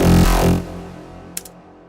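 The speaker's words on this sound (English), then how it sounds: "with these three wavetables and the band reject, it's going to sound like this" A wavetable synth patch built from three layered wavetables through a band-reject filter plays a loud, rich sustained note for about half a second, then fades away, with a brief high click near the end.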